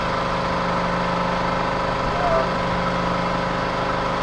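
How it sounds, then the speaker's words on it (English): An air compressor drones steadily and loudly through a door pull brace build, a constant mechanical hum with no pauses. "Hopefully you can hear me over the top of the air compressor."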